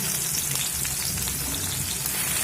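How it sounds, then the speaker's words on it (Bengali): Chopped onions fry in hot oil after the tempering spices, giving a loud, dense, continuous sizzle close by with no talking. "দিয়ে পেঁয়াজটা ভাজা হতে দেব।"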